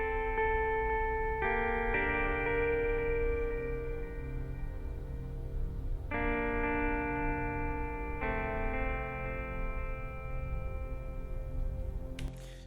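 Two guitars play together for sports-drama style music, one carrying the main melody with a delay effect echoing its notes and the other dry beneath it, sustained and mellow with no voices.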